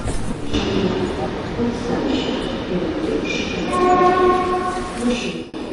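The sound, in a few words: railway station with train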